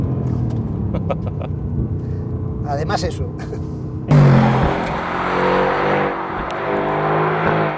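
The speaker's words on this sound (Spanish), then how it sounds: "El V8 del AMG suena como un muscle car americano." A Mercedes-AMG GT R's V8 engine and exhaust burst into a loud, deep rev partway through, after someone speaks over a quieter idle, then keep rumbling and surging strongly to the end.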